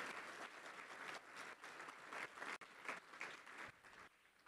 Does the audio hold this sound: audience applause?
yes